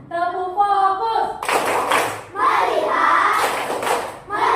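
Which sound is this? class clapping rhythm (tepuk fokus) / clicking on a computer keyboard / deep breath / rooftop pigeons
class clapping rhythm (tepuk fokus)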